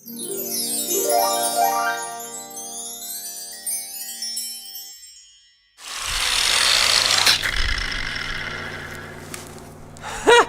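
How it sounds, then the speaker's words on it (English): An angle grinder cuts through metal parts of an electrical transformer, a loud, steady grinding roar starting midway and running to the end, after an earlier stretch of tonal, whining sound. "maybe an angle grinder could just cut that."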